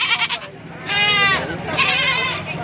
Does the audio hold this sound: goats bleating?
yes